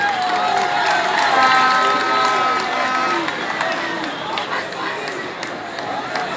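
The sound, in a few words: crowd applauding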